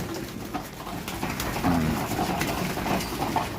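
Racing pigeons feed close by, giving soft cooing and pecking amid a busy, rustling background.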